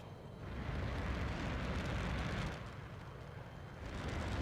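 In the jet combat game Metal Storm, a missile fired from a KF-21 strikes a drone, a broad rumbling blast that swells, eases briefly and then rises again, with no voices.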